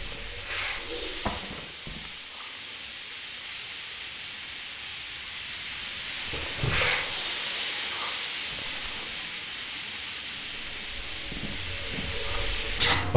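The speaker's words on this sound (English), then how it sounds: "the steam is messing everything up right now" Steady broadband steam hissing in the video game Lethal Company, loud and continuous throughout with brief bursts and a few faint clicks, no talking.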